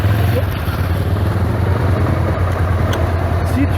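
Motorcycle engine idling during a first motorcycle riding lesson, a loud steady low rumble held throughout.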